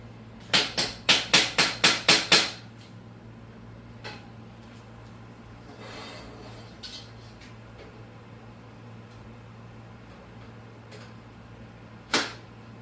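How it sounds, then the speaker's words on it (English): A quick run of about eight sharp taps from a small hammer banging parts in, close and loud, followed by quiet room noise and one more tap near the end. "bang these in with their little hammer they sent me"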